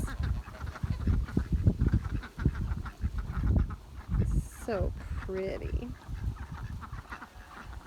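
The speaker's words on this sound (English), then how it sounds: "So I've got my Sebastopol geese out here." Sebastopol geese honk in short, nasal bursts close by while a person talks over them in a calm voice.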